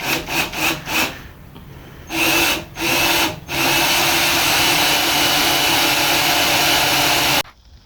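A power drill drives self-tapping screws into a car panel on a 1963 GMC, with several short buzzing bursts followed by a long steady whir that cuts off abruptly.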